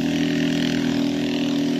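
Steady, loud engine drone of busy road traffic with many vehicles, a continuous low hum with no breaks and no voices.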